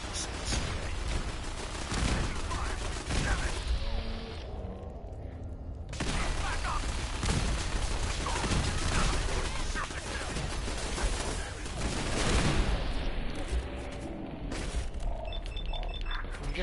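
Gunfire in the video game Fallout 4, with dense, crackling shots and bursts running almost continuously at a steady loud level, mixed with game noise and talk.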